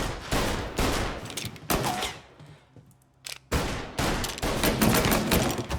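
Gunfire in the video game Mafia Definitive Edition: loud rapid bursts of shots, separated by a short quieter pause before firing resumes.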